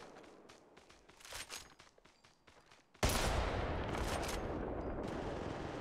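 Gunfire in the video game Apex Legends Mobile, a run of sharp, rapid shots and footsteps followed by a sudden louder burst of sustained automatic fire that keeps going to the end.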